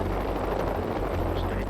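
A rescue helicopter hovers over a forest during a winch rescue, its rotor and engine roar loud, steady and close for the whole moment.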